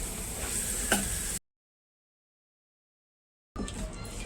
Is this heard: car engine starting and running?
no